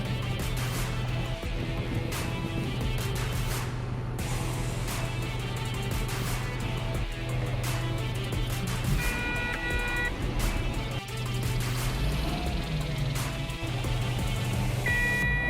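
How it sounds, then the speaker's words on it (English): A Caterpillar 777D haul truck engine runs through a stall speed test, holding a loud, steady low drone with a tonal whine and occasional short bright beeps over it. No talking. "Now, let's proceed with retesting the engine stall speed."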